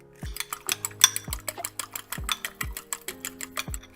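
Two eggs being readied in a bowl for scrambling, with a steady run of sharp clinks and taps of utensil against bowl and shell cracks, close and fairly loud, with no talking.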